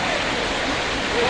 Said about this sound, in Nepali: यो पानी चाहिँ तपाईँले देख्नुभएको होला पर जुन चाहिँ पुच्छरदेखि यतापट्टिको जो झोडा छ त्यो झोडाबाट सिधै यता बगेर आउँछ पानी